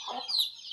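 A short burst of clucking comes from a rain-soaked mother hen near her chicks, one close, rising cluck with softer fowl sounds around it.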